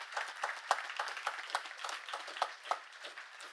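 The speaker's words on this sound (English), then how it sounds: "let's give everyone a big round of applause" Applause from an audience at the SUNY Schenectady 2025 college commencement, a moderately distant wash of many hands clapping with scattered sharper claps, steady for several seconds.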